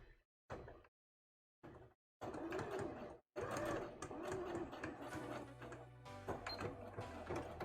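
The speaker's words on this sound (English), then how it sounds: "These are just some stitches now to attach those details onto the coat." A sewing machine stitches gold details onto a Re:Zero Emilia cosplay coat, running in short stop-start bursts that give way to longer continuous whirring runs, close and clear.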